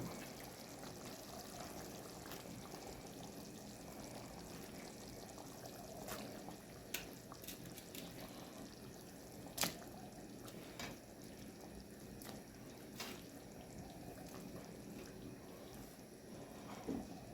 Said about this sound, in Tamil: புளி தண்ணி சேர்த்துருக்காங்க.